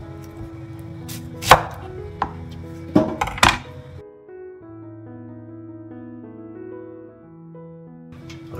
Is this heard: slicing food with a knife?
yes